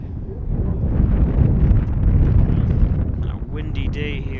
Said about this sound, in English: A windy day here